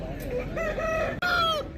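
A large-breed rooster crows loudly and close by, one long drawn-out call followed by a second crow after a brief break.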